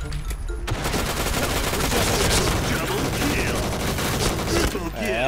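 Rapid, dense gunfire from a shooting video game, an online shooter match, with sustained bursts of fusillade that fill the whole stretch loudly and continuously, game sounds layered throughout.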